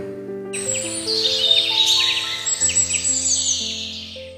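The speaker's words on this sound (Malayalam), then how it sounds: "കാടിനകത്തു നിന്നും പലതരം കിളികളുടെയും ചീവിടുകളുടെയും ശബ്ദം ഉയർന്നു കേട്ടു" Several birds whistle and chirp in a quiet forest, with long high trills and layered tonal calls, close and clear, no talking; cicadas also sound from inside the forest.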